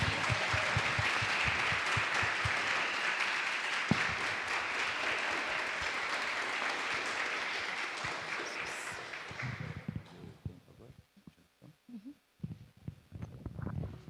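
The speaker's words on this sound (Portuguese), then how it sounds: "Podemos bater palmas em agradecimento a ela?" A church congregation claps in thanks, a full, steady round of applause that fades out after about ten seconds into quieter room noise with a few scattered sounds.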